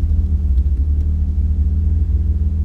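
A car rolls slowly across a narrow wooden covered bridge, its engine giving a steady, close low rumble with faint thuds over the boards throughout.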